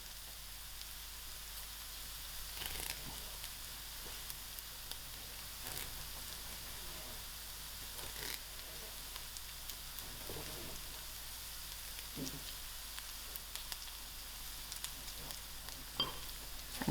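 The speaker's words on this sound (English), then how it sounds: "So to my onions, I'm adding in my garlic, which I crushed. And thereafter my curry leaf." Crushed garlic and curry leaves hitting browning onions in a pan for a spicy fish head curry, giving a soft, steady sizzle with scattered faint crackles and occasional louder pops, fairly quiet and without talk.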